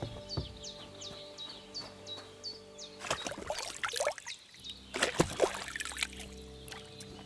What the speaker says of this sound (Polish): Ochlapiemy się wodą.